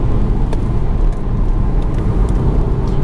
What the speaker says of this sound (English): on a nice country road, God, it feels nice to drive a 3 Series